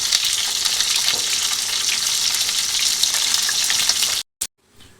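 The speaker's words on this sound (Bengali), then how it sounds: "তেল গরম হয়ে গেছে, এবার মাছের মাথাটা তেলের মধ্যে দিয়ে দেবো।" A catla fish head fries in hot oil with a loud, dense, steady sizzle that cuts off abruptly near the end, leaving a short burst and then quiet.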